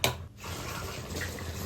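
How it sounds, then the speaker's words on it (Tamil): Tamarind water is poured into a pot of kara kulambu, a brief knock followed by a steady, close splashing trickle of liquid running without pause, no voices. "இதுக்கப்புறமா நம்ம வந்து லைட்டாக இதில் புளி தண்ணி கொஞ்சம் தண்ணியும் ஆட் பண்ணிக்கலாம்."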